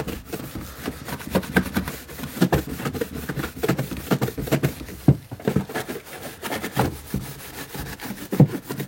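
A small brush scrubs a car wheel arch during a full pre-sale cleanup, making rapid rhythmic scratchy strokes in quick bursts, close up and with no talk over it.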